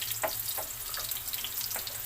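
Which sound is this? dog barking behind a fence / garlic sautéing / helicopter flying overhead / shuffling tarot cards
garlic sautéing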